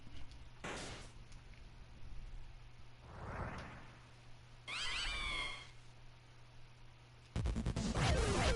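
A cat meows in the video game Deltarune, several short drawn-out meows at moderate volume, set among brief game sound effects including a sliding whoosh and a loud crash near the end.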